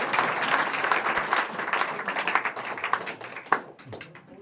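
A crowd at a Madhya Pradesh election rally claps steadily in a dense burst of applause that thins out toward the end, loud and fairly close, with no talking over it.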